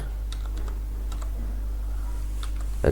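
Keys on a computer keyboard are tapped in a few light, scattered clicks over a steady low hum, with no talking.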